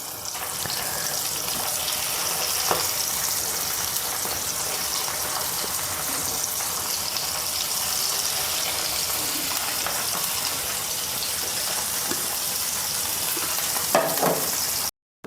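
Sardines frying in a pan give off a loud, steady, hissing sizzle from start to finish, with a few faint clicks near the end before it cuts off abruptly.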